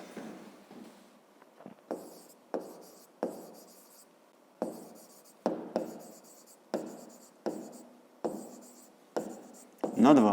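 A pen writes on paper in a steady series of short scratching strokes with brief pauses between them, heard up close. A voice speaks briefly over the writing.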